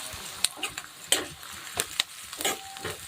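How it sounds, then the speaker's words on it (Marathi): Green chillies sauté in a pan, giving a low sizzle broken by sharp spatula scrapes and taps against the pan in an uneven rhythm, close by. "आता हे दोन ते तीन मिनटं छान असं मी परतून घेणार आहे"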